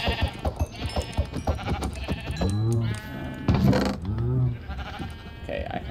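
Sheep bleat in a Minecraft game world, several sharp wavering cries in a row, loud and close over steady game background noise, with the bleats spaced unevenly across the stretch.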